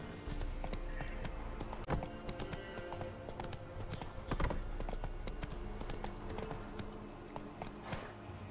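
Hooves of the horse Roach trotting in The Witcher 3, a steady close clip-clop rhythm on hard ground with faint tack jingle, continuing evenly throughout.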